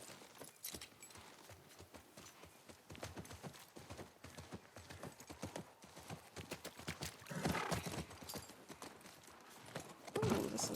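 A horse's hooves clip-clop in a steady walking rhythm in The Last of Us Part I, close and clear with jangling tack, and a brief whinny near the end.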